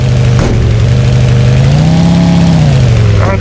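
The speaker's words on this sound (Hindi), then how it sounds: "बाइक चला रहा हूँ यार ये" A motorbike engine in the Big City Life Simulator video game revs loudly and steadily, its tone rising and falling smoothly, with no voices.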